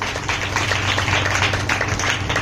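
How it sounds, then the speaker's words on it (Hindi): A congregation claps loudly during a church service, a dense continuous wash of many hands with no gaps, steady and close throughout. "जोर से ताली बजाएंगे"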